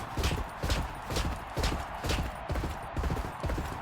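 Hooves of a galloping racehorse in a horse racing video game pound in a fast, even rhythm, each stride a loud thud with a bright crack on top, repeating steadily and close up.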